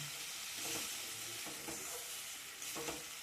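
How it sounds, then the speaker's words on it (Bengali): Dal and spices are stirred together in a pan with a splash of water, as a soft continuous sizzle plays under a few muffled scraping strokes of the spoon. "ডাল মশলা একসাথে ভালো করে একটু নাড়াচাড়া করে সামান্য একটু জল দিলাম"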